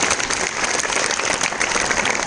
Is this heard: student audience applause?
yes